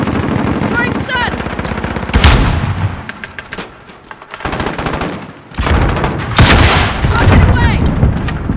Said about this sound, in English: Throwing stun!